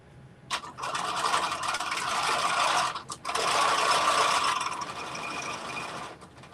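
A sewing machine stitches jeans fabric in two bursts of fast, rattling, mechanical whirring, separated by a brief pause, close and clear.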